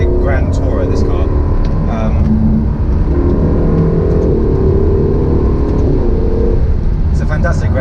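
A Ferrari California T grand tourer's engine accelerates in a loud, continuous run with rising harmonic tones, sustained throughout alongside steady road and wind rush.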